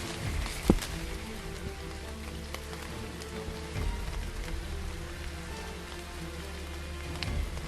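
Steady, persistent rain pattering on surfaces across an outdoor UK paintball field, a dense even hiss with scattered drops and a couple of brief knocks, no voices.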